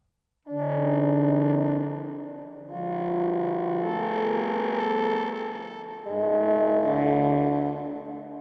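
A synthesized brass flutter sample patch from a textural brass library plays sustained, wavering chords in three phrases, its tone fluttering and slightly distorted, with no talking.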